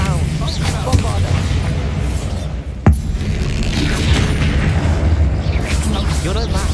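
Bombarda spell explosion during combat in Hogwarts Legacy, a single sharp blast punching through busy game noise of magic effects and clanking mechanisms, with voices speaking around it.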